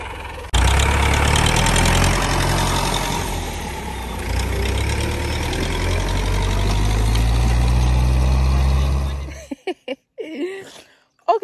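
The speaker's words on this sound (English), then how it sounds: "this is the tractor waiting for us" Tractor engine idling close by, a loud steady low rumble that holds for about nine seconds before cutting off, followed by a few faint scattered sounds.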